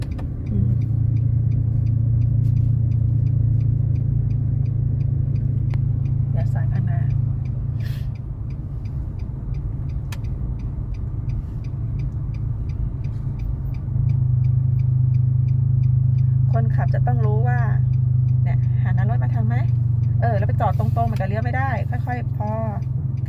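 A car on a driving lesson hums along with a steady low engine drone that dips and resumes as it slows to prepare a left turn, while an instructor talks throughout.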